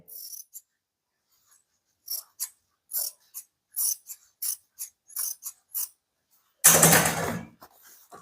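Scissors snip through cloth being cut for a baby frock, a run of short crisp cuts followed by a longer rustling of fabric, close and clear with no talking.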